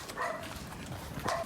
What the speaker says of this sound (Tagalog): Galit yung aso.